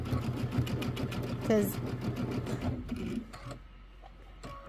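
A sewing machine runs in a fast steady whir as it stitches a quilt seam, then slows and stops; a person talks over the stitching throughout.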